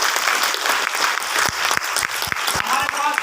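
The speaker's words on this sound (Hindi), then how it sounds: "एक बार जोरदार ताली होगी" Audience at an RCM business meeting bursts into loud, sustained applause, dense clapping filling the hall throughout with a few sharper claps standing out.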